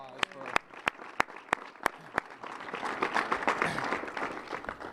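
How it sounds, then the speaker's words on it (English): An audience applauds the little senators at a civic gathering: several loud, isolated claps ring out first, then a softer, denser wave of crowd clapping builds and continues. "Give the little senators a round of applause."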